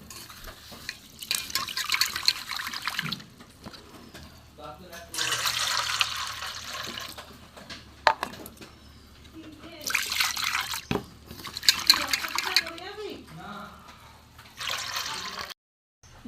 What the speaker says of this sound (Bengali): মুগ ডালটা আমি সেদ্ধ করব। প্রথমে আমি ধুয়ে নেব।